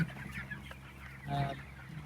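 Broiler chickens about 23 days old in a fan-cooled poultry shed give soft, steady clucking that swells briefly midway, with no voices present.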